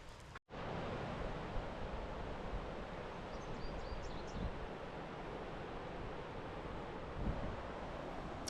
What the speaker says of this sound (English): You can probably hear the river now